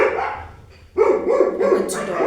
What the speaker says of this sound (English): my dogs will always bark at the most random things ever